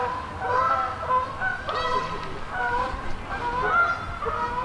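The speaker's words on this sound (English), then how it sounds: "Birds over there going crazy." A flock of geese honks loudly and continuously nearby, with overlapping calls sounding over steady outdoor background noise.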